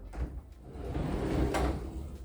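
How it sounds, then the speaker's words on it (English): Pocket door in a quad-section home rolling along its track, a short close rumbling slide with a light bump as it stops. "And we have a pocket door."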